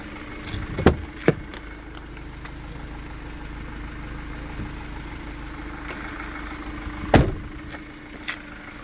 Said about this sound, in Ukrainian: Чиста робота, двигуна, ніяких нарікань.